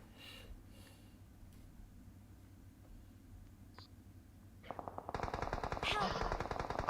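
Rapid automatic gunfire in the mobile battle royale game PUBG Mobile breaks out as a dense, loud burst near the end, following a quieter stretch of game ambience.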